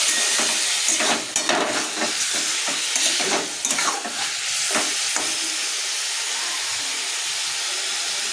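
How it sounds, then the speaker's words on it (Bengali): Meat stirred and seared in a hot pan, a loud close sizzle and hiss with a burst of rapid spatula scrapes early on, then settling into a steady, even frying hiss. "এখন এটাকে ভালো করে আমি কষিয়ে নিচ্ছি।"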